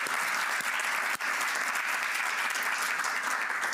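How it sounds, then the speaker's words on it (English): An audience claps for the Schwab Foundation team at the 2024 Social Innovation Awards held by the World Economic Forum in Davos. The applause is a continuous, even patter throughout, with no voices over it. "let's give an applause to all they do"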